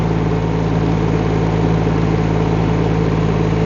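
Rippa R18 mini excavator reversing slowly and smoothly, its engine holding a steady close idle-like hum with a strong low tonal drone and no speech.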